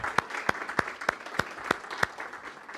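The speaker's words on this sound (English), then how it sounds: "we'd like to give them all a round of applause." Seven or eight sharp, evenly spaced claps ring out at a steady beat, close and distinct above a faint room hum, with no voices over them.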